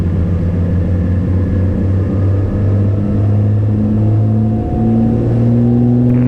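Twin piston engines of a 1982 Cessna 414A run at takeoff power, a loud, steady droning rumble with rising harmonic tones as the aircraft accelerates, continuous throughout with no talk.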